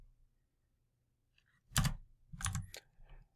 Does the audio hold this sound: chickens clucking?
no